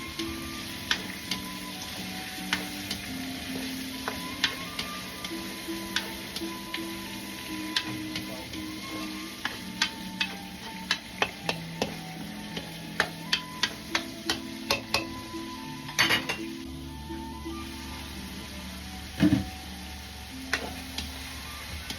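Shrimp go into a pan of browned garlic for chop suey and sizzle steadily while a spatula stirs them, making frequent sharp taps and scrapes against the pan.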